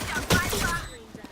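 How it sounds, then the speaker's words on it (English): A quick burst of sharp in-game effects in Valorant around a thrown flashbang: a loud crack followed by rapid gunfire-like pops and a ringing tail, with a voice briefly audible behind it. "Flashbang."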